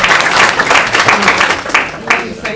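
Applause from an audience at a talk, steady clapping that swells and rises again in bursts, with a few voices mixed in.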